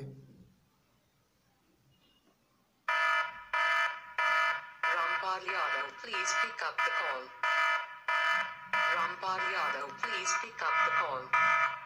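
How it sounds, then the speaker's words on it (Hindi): After a faint low hum, a loud electronic ringtone melody starts and repeats in pulsing bursts for several seconds. "तो कुछ ही देर में आपका रिंगटोन बनकर रेडी हो जाएगा"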